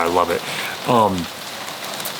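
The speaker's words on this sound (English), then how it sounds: "You can really hear the rain coming down right now." Rain falls steadily outdoors as a soft, continuous hiss beneath a man's brief speech.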